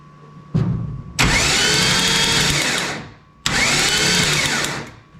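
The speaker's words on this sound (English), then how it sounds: "When you first start up an engine, you always want to crank it over a bunch" A freshly built forged turbo car engine cranks over without spark plugs, loudly in two long bursts, each whirring steadily for a couple of seconds before winding down, with a short click before the first.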